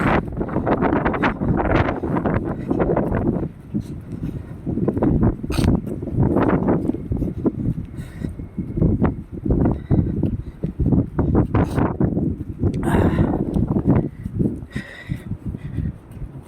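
Strong storm wind in Greenland buffets the microphone in loud, continuous roaring gusts with rustling, rising and falling throughout, no voices heard.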